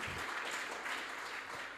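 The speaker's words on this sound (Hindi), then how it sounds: "तो एक बार जोरदार तालियां उस कॉलेज के लिए" Audience applause at a college event in India, a steady wash of clapping from many hands that fills the whole stretch evenly at moderate volume, with no voices rising above it.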